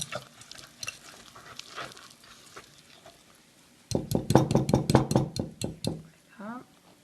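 Coconut pound cake batter is stirred in a mixing bowl, with a spatula knocking and scraping the bowl in a quick burst of close taps and strokes after a stretch of quieter handling.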